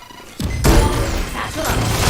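A satchel charge explodes in a deathmatch video game, a sudden loud, close blast that cuts in abruptly and leaves a broad roaring rumble sustained to the end, with no voices.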